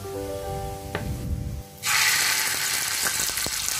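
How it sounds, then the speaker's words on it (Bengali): Ground data shak greens hitting hot mustard oil in a pan: after a brief clatter, a sudden loud, steady sizzle bursts out and continues close up, with a few faint utensil clicks. "তেলটা গরম হলে এর মধ্যে দিয়ে দিব বেটে নেওয়া শাকগুলো।"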